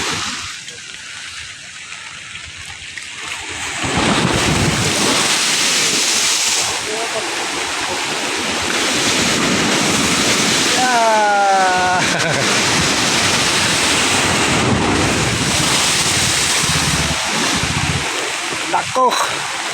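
Ocean waves at sea around a fishing boat in Manila Bay: loud, continuous rushing surf and sloshing water throughout, with voices heard briefly over the water.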